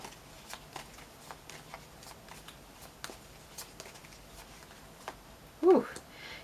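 Tarot cards being shuffled by hand: soft, steady riffling and flicking bursts at close range, then a brief louder rustle near the end.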